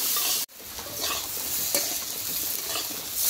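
Potatoes seasoned with turmeric and salt fry in a pan over a wood fire, giving a loud, steady sizzle with a brief dropout near the start and faint stirring clinks.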